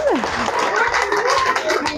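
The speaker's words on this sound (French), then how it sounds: "On applaudit." A school audience applauds to thank a nutrition guest, dense clapping running steadily throughout with voices mixed in.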